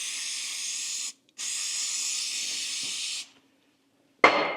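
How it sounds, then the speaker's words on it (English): Brake cleaner sprays onto a Dana 44 axle ring gear in two long, steady aerosol hisses up close, separated by a short pause, followed by a sharp clatter. "I'm going to spray it with the brake clean."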